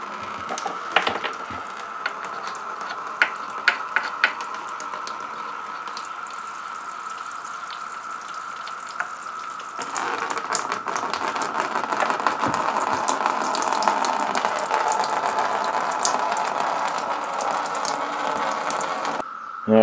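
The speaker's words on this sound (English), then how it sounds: "Got too much oil, so there's going to be some running out of the tube here." Excess oil trickling out of the fill tube on an overfilled Briggs & Stratton engine, a steady liquid running and spattering sound, continuous and close, growing a little fuller partway through.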